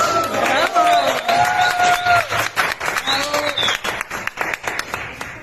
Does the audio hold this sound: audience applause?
yes